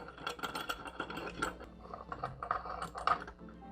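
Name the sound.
C-clamp being tightened onto a table corner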